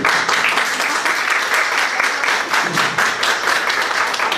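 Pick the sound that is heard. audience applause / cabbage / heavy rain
audience applause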